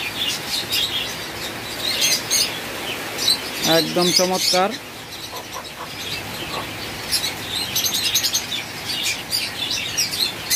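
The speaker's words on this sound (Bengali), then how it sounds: "এখানে 2টা মুরগি, টোটাল আমাদের 6টা মুরগি আছে এবং 2টা মোরগ আছে ব্রাহ্মার, আর সিল্কি আছে 1 জোড়া" Brahma and Silkie chickens and roosters cluck and call, with a brief run of rising crowing or squawking notes midway. Birds chirp throughout, and a person speaks a few words over the flock.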